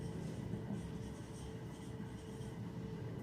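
Faint, continuous scratching of a pen or marker on a writing surface during a geometry lesson, quiet and unbroken for a few seconds with no one speaking.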